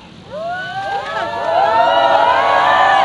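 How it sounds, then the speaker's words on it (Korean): A crowd at an outdoor press conference outside the government complex shouts and cheers, voices rising in long swelling whoops that build louder and more sustained toward the end. "안타까우면 함성을 지르고 목소리를 높여서 외쳐주시기 바랍니다"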